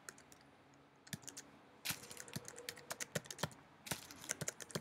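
Someone types a full name on a Mac keyboard while setting up a new user account, making quiet, irregular bursts of close key clicks with short pauses between them and no talking.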